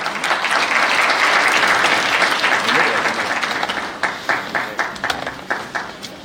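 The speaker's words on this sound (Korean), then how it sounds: "큰 박수 부탁드리겠습니다." Audience applause in a university lecture hall swells as a steady, dense roar of many hands clapping, then thins into scattered individual claps.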